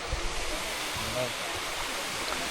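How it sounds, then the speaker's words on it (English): Chiang Mai sticky waterfall flowing over limestone, a steady, soft rushing of water heard as a continuous hiss close by, with faint talk in the background. "So they call it a sticky waterfall because of all the limestone that's been built up from the lime in the water"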